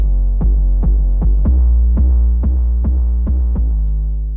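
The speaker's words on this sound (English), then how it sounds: "Let's add this dark 808 here." Deep booming 808 bass notes hit in a steady rhythm, about nine heavy pulses with long low tails, loud and alone.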